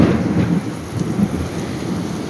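A thunderstorm pours heavy rain in a steady, loud, dense hiss, with low rolling thunder rumbling underneath throughout and no voices.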